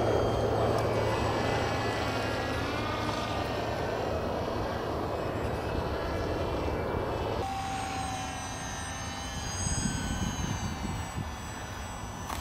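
A twin-motor Mini Skywalker RC plane on its maiden flight, its electric motors giving a steady loud whine overhead that shifts pitch midway as the plane passes, continuous and without talk.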